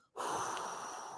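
A single close, breathy exhale during a dumbbell triceps exercise, a short airy rush of breath with no talking.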